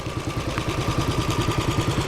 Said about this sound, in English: I hear motorcycle.